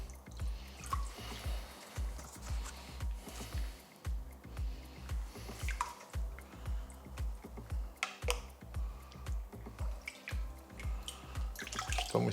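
Water sloshes rhythmically in a gold prospecting pan as ash from refining DDR memory modules is washed off. Regular swishing surges come about every two seconds, with light drips and trickles between them and no speech.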